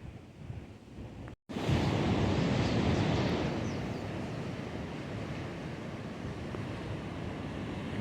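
Mellow ocean waves rolling onto Kalalau beach, a steady broad wash of surf mixed with wind buffeting the microphone, loud and continuous, with no talk.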